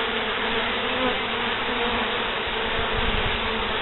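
Steady, dense buzzing of many honeybees close by at a hive, a continuous droning hum with no pauses and no voices.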